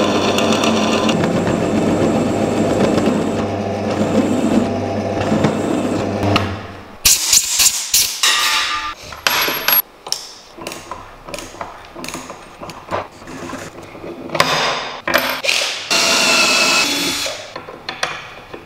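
Drill press drilling a metal shank for a quick-change lathe tool holder: a steady, loud machine whir and cutting grind for about seven seconds, then intermittent clanks, knocks and short bursts of workshop handling.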